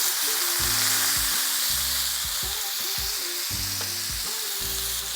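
A peppercorn steak sears in a hot pan after being turned, with a loud continuous broadband sizzle running the whole time over low, steady tonal music.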